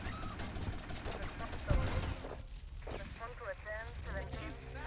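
A car explodes in GTA Vice City, a booming blast amid dense, noisy game sound effects, followed by chaotic crackling and rumbling, with a voice talking over it.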